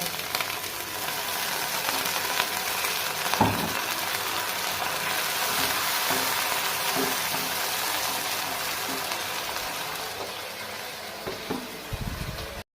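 Potato and eggplant curry masala frying in a pan, a steady close sizzle with occasional stirring scrapes and faint clinks throughout, no voices.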